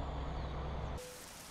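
Steady rain falls in the trucking game American Truck Simulator as a dense, even hiss, first over a low idling rumble that cuts off partway through, leaving softer rainfall alone.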